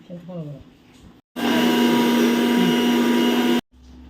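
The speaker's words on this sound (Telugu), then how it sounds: "మిక్సీ పట్టుకుందాం." Curry leaf chutney with water blends in a kitchen mixer grinder, a loud steady motor whine for about two seconds, preceded by someone talking and ending abruptly.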